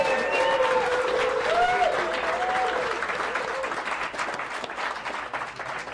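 Crowd at a fundraiser in the historic Mid-Spa Hotel in Tonopah, Nevada, clapping in sustained applause, loud at first and slowly thinning, with voices and whoops mixed in.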